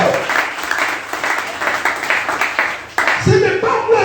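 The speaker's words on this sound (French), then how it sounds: "là on acclame" A church congregation applauds in dense, steady clapping. A voice breaks in near the end, speaking over the fading applause.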